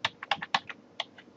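Quick keystrokes on a computer keyboard, about a dozen sharp close clicks in an irregular typing rhythm while entering a command, with no voices.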